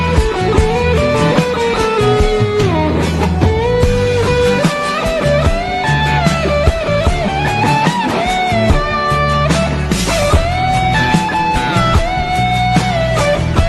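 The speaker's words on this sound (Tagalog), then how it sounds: "Parang may konting tunog din siya ng wah wah effect. Yung sa guitar." Electric guitar with a wah-wah effect sweeps through a cover song over a full band mix, loud and continuous for about fourteen seconds with no talking.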